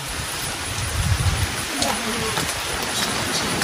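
Heavy rain pours steadily in a dense, hissing wash at a Vietnamese home, with low thumps and faint voices mixed beneath the constant downpour.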